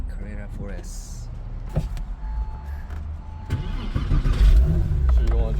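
Porsche Carrera 4S sports car running, its engine a steady low hum inside the cabin while people talk throughout, rising slightly toward the end.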